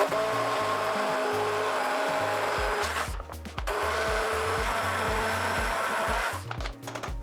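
A blender purees a creamy mushroom soup with a loud steady motorized whir, drops briefly in pitch and power around the middle as it bogs down, then resumes its strong close grinding hum before faltering again near the end.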